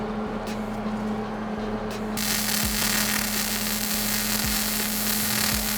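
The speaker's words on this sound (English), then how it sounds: "So we're gonna do some welding." Welding on a steel jack and skid mount, a steady close-up sizzle and crackle over constant mains hum, louder after the first couple of seconds, with no voices.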